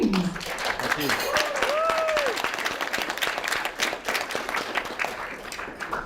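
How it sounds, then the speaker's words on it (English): Wedding guests at a reception in a country hall applaud the groom, a broad, continuous round of clapping with a few whoops rising over it early on. "Ladies and gentlemen, a round of applause for your groom, James"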